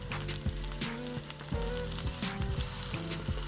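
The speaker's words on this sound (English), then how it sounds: "we're going to get to frying our onions that I've already chopped up" Onions sizzle and crackle steadily in hot oil in cast iron skillets, a constant close frying hiss with small pops and a few clinks of a utensil.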